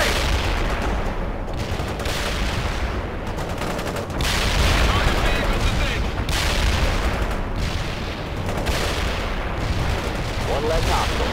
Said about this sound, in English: Zulu Niner firing mortars. Medium artillery reporting in.